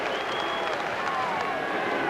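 Stadium crowd at Mount Smart Stadium applauding the home team during a 1993 New Zealand versus Australia rugby league test, a steady wash of distant clapping and cheering that runs throughout, with no clear gaps.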